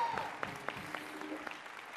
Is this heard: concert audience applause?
yes